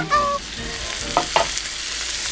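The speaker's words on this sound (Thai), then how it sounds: "จากนั้นบล็อกคลี่ค่ะ ใส่ลงไปเลย" Broccoli hits a hot wok of stir-frying shrimp, setting off a loud, steady sizzle close by, with a couple of sharp metallic clinks from the pan mixed in.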